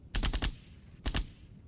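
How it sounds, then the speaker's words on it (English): Gunshot sound effect: a rapid burst of four sharp shots, a brief pause, then two more, loud and close with nothing else behind them. "Gunshot."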